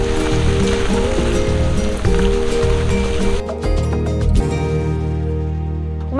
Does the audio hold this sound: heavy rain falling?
yes